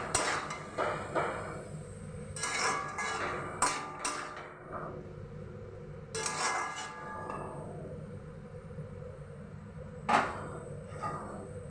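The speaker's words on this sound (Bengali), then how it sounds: "খুব ভালো করে প্রথমে আমি নেড়ে নেব।" Utensil scraping and clinking against a pan while potatoes and fenugreek leaves with chilli, salt and turmeric are stirred, irregular close metallic knocks and scrapes in bursts separated by quieter pauses, with no speech.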